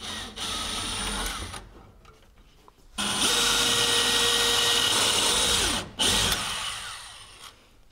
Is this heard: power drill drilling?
yes